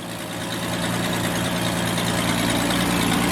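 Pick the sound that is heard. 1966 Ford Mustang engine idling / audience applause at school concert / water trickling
1966 Ford Mustang engine idling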